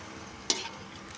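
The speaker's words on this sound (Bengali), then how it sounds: "তো চলো আমি একটা একটা করে ভেজে নিই" Luchi, small puffed bread rounds, frying in hot oil, giving a steady soft sizzle with one sharp splash or clatter in the middle; no voices.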